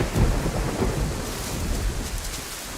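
Steady rain with rolling thunder in the DayZ game world, a continuous broadband wash with low rumbles swelling and fading throughout, heard alone without talk.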